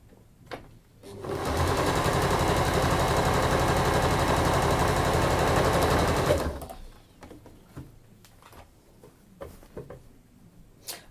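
A sewing machine stitches the handle seam of a fabric bag in one steady, loud, continuous run of about five seconds, starting and stopping abruptly, with quiet handling noises before and after.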